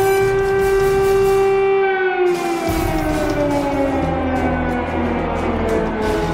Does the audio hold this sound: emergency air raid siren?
yes